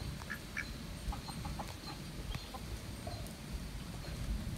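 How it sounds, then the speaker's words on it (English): Homestead hens in their pen clucking and chattering softly in short scattered calls over a steady noisy outdoor background, moderately distant. "Here's those hens that startled me a while ago."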